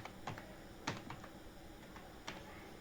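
Quiet typing on a computer keyboard while writing HTML code, a few soft irregular keystrokes with occasional sharper clicks, close by and with no talking.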